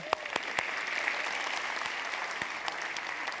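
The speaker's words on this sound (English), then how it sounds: "Give them a round of applause." Audience applause at a talk on innovation, soft, fairly distant clapping from a seated crowd, punctuated by a few sharp nearby claps and continuing steadily for a few seconds.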